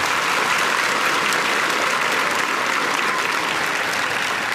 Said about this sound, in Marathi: आता पोरीवर तुमच्या टाळ्या.